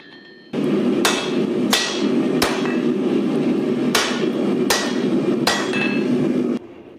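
A forging press works the tip of a Damascus steel kukri blade, sending out six loud, evenly spaced metallic strikes over a steady, loud mechanical hum.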